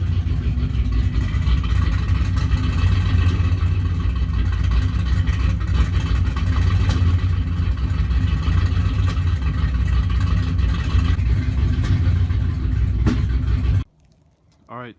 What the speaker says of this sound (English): Giving it some gas to let it warm up.